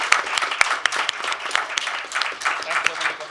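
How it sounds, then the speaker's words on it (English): A conference audience applauds the panelists in a hall, a dense, steady patter of many hands with some sharper claps, moderately loud. "please join me in the applause thanking our panelists"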